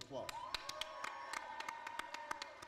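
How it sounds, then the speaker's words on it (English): Crowd applause at a Fourth of July celebration, heard faintly and at a distance: a sparse run of sharp individual claps over a low murmur, with a drawn-out vocal tone underneath. "Give her a big round of applause."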